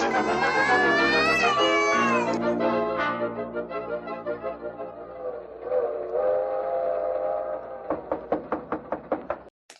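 A radio drama sound effect of a train: a loud whistle blast opens, then steady rhythmic clacking of wheels on rails that quickens into sharp knocks near the end.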